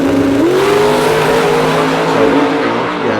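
A 2500hp G-body drag car revs hard while bumping into the stage, a loud, close, sustained engine drone with a rising pitch sweep early on, then holding a steady roar.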